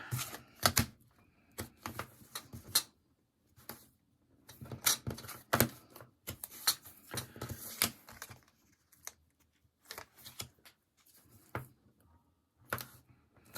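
Adhesive tape is pulled off the roll and pressed down while a belly band is wrapped around a cover, giving repeated crackly bursts of tearing and sticking with short quiet gaps between them.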